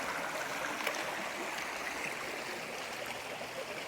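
Creek water flows steadily beside a backpacking campsite, a soft continuous rushing hiss with faint gurgles, quiet and unbroken with no voices.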